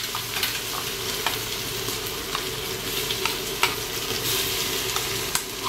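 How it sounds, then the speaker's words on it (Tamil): Ginger garlic paste frying in a pan with softened onion and green chillies, a steady close sizzle with light stirring scrapes throughout and no voices. "பச்சை மிளகா ரெண்டும் போட்டாச்சு. வந்து வெங்காயம் வதங்கியாச்சு. இப்போ வந்து இஞ்சி பூண்டு பேஸ்ட் போட்டுக்கலாம்."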